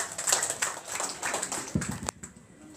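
Scattered applause from a modest crowd at a seminar, for the MC: uneven claps that build briefly and then thin out into a few last taps.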